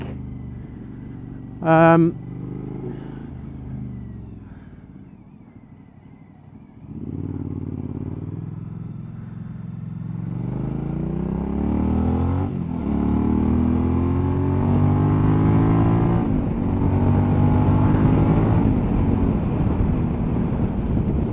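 Suzuki V-Strom 1000 motorcycle on a test ride after cleaned brakes and a tightened chain: the engine idles low, then pulls away and revs up through rising gear changes, loud and close with wind noise, after a brief sharp click near the start.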